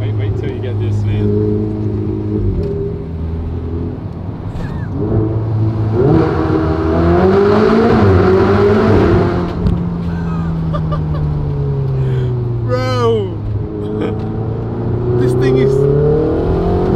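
A Ferrari engine accelerates while being driven, a steady near drone rising and falling in pitch through gears, heard from inside the car with a voice talking over it.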